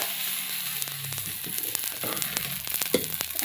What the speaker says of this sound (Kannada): ದೋಸೆ ಮಾಡೋದು ನೋಡ್ಬೋದು